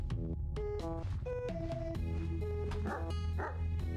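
A dog barks and yips in an indie horror video game, a run of short, bright barks over steady game music, fairly close and loud.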